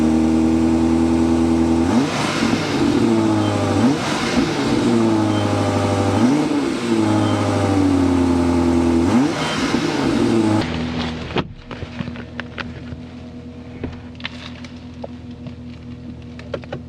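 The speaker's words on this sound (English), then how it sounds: "start it up so you can hear that exhaust note" A deep V8 exhaust on a 2025 BMW X7 M60i SUV revs hard four times in a steady rhythm, loud and close, then drops to a rough, lower rumble.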